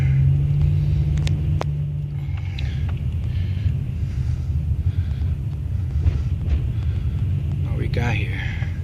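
A car drives slowly along a neighborhood street, its low engine and road rumble steady throughout, with a few faint knocks and rattles passing nearby.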